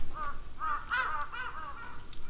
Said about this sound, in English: Crows? What are you doing?